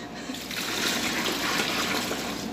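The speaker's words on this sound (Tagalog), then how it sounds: "Lagyan natin ulit ng tubig." Water pours steadily into a cooking pot while an Arabic meat dish, hashu laham, is being made, producing a soft, continuous splashing trickle that stays fairly quiet throughout.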